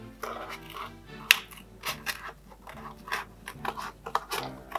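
Small scissors cut through thick cardboard for a Halloween mask, giving irregular close crunching snips and scraping rasps with brief pauses between cuts.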